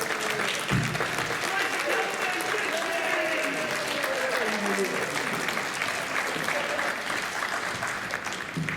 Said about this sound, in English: a huge round of applause for one of the people that set this up